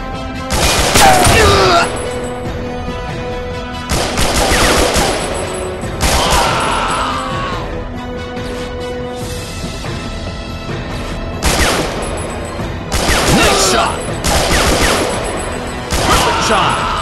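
Bursts of gunfire from the mobile shooter game Papa Bravo, loud and repeated in clusters of rapid shots with short gaps between volleys.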